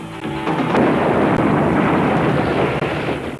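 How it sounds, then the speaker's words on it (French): A loud, sustained explosion from a movie trailer, a deep rumbling blast that fills the whole stretch at steady high volume, with no voices. "C'était une bombe?"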